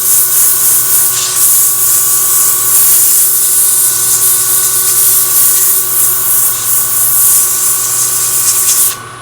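Constant hissing, buzzing whir of a power sander with 120-grit sandpaper working close by, steady for several seconds before stopping at the end.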